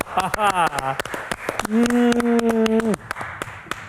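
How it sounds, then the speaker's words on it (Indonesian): A studio audience at a health talk show claps for a stroke survivor, sharp scattered hand claps close by, interleaved with a voice talking over them. "Tepuk tangan lagi buat Bapak."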